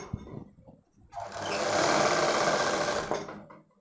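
A sewing machine runs steadily for about two seconds while stitching a boat-neck baby frock, its motor whirring loud and close after a few light handling clicks, then slowing and stopping.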